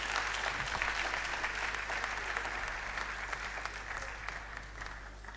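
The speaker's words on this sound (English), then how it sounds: "Another resounding applause for His Excellency, the former Governor of Lagos State" Steady, sustained audience applause at a university convocation lecture for a former Lagos State governor, dense clapping holding evenly for the whole stretch with a low hum beneath.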